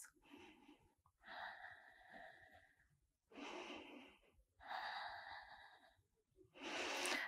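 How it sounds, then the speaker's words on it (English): Slow, deep breathing during a self-love yoga session, with four long airy breaths taken in a steady rhythm, each separated by a short pause; the breaths are close and moderately loud, and no one speaks. "Deep breaths."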